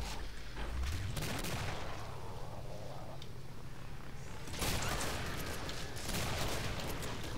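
Repeated shotgun blasts from a hunting shotgun in the zombie-survival video game Killing Floor, loud and close, with broadband bursts clustered near the start and again around the middle, over steady game noise.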